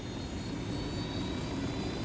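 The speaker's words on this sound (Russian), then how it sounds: "И сел вертолет." Steady rotor-engine drone of a helicopter in the video game Ghost Recon Wildlands, a continuous loud hum that holds unchanged with no one talking.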